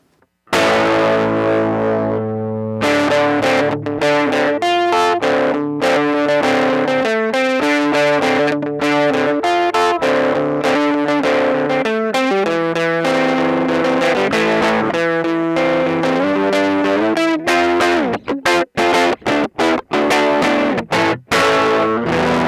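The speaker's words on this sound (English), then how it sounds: "Alright, I'll put on some distortion." A Gibson electric guitar with distortion, played through a $20 Honeytone N-10 mini amp with a delay pedal, plays a loud, continuous run of crunchy chords and notes for about twenty seconds, with no talking.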